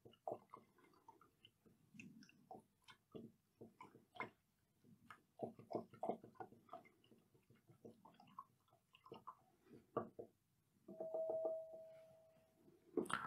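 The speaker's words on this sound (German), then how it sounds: "Das Ganze verrühren wir ein wenig." A soap, spirit and water mixture being stirred in a glass beaker gives quiet, irregular clinks and taps against the glass, with a brief ringing tone near the end.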